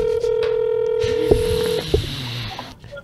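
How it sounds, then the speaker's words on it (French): Telephone keypad tones beep in a quick run of dialing, loud and close, a steady tone fading into the next presses before a call connects. "je vais appeler Alexandre Champagne"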